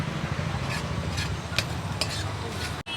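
Onion with salt frying in a pan at a Mumbai street food stall, a steady sizzle with repeated scraping stirs of a spatula, close and continuous, ending with a brief clatter.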